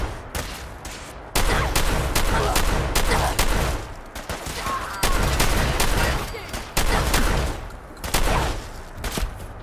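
Repeated gunfire bursts from Fallout 4 combat, loud sharp shots in clustered volleys with short gaps, some rapid like automatic fire, close and dominant throughout.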